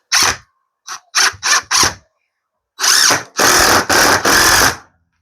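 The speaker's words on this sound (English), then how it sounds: "I'm going to get these 3-inch screws to go in here." A power drill drives 3-inch screws into a French cleat wall. It sounds as a run of short, loud whirring bursts, then three longer, sustained bursts close by, with no talking.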